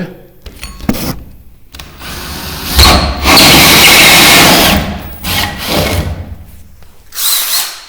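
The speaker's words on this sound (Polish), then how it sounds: "Też jeszcze nigdy nie wierciłem w karton gipsie." A power drill bores a hole into plasterboard during a living-room lighting installation, running in several loud bursts separated by short pauses, with the motor whine and grinding rising and falling as it cuts.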